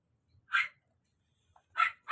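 Two or three short barks from a dog at a moderate distance, separated by brief pauses in an otherwise quiet setting.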